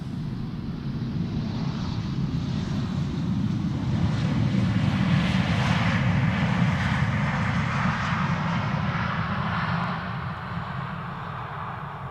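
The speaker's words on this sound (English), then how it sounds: "More Embraer 190s landing on Polderbaan." Embraer 190 jets landing on the Polderbaan runway at Schiphol Airport, a broad steady engine roar that swells in the middle and eases toward the end, heard from a distance with no talking.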